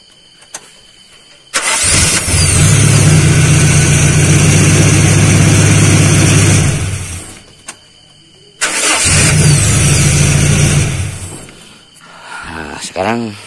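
A car engine is cranked by its starter motor after the starter's carbon brushes were replaced. Two loud, close bursts of cranking and running, about five and three seconds long, are separated by a pause and end with a brief whirring.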